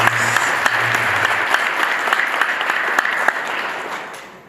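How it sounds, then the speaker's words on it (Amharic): Audience applause from the Ethiopian community at an Image of Africa youth development event, a dense, steady burst of many hands clapping that holds evenly for several seconds before fading away at the end. "ጭብጨባችሁ"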